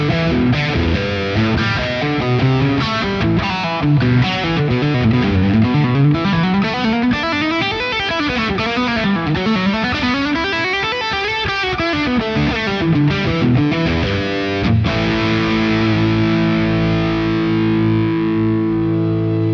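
Electric guitar played through a drive pedal set for a classic rock tone, distorted chords and riffs ringing continuously and loud, ending on a sustained chord, with no talking.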